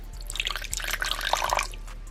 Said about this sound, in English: the water bowl is empty, and now I'm going to go ahead and pour some new water in